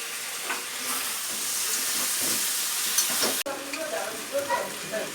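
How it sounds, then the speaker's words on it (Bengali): Jute leaf fritters fry in a pan, a continuous sizzling hiss broken by stirring scrapes, a sharp clack midway, then bubbling crackle continuing. "পাট শাকের বড়াটা এখন ভাজবো এখানে"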